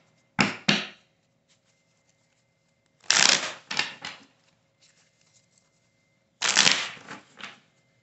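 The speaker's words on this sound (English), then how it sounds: "So let me pull some cards on that and we'll see what's going on here." Tarot cards shuffled and pulled from a deck in three close, crisp riffling bursts, each a quick pair of flutters separated by quiet pauses, with no talking.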